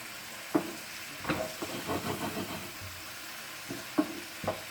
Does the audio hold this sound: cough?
no